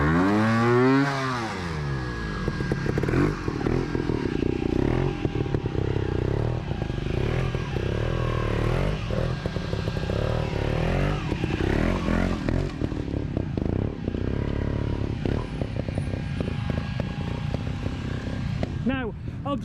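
A trials motorcycle churns through mud at a muddy trial event, its engine revving and bogging in uneven bursts close by, with people talking and calling out over it.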